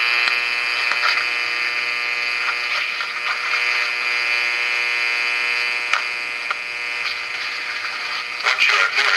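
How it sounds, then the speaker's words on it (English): Audio carried on light from an LED and played back: a steady buzzy, tonal hum with many stacked harmonics and faint crackle, continuous and fairly loud for the whole stretch, with no speech over it. "what you are hearing is sound that's actually coming from this LED."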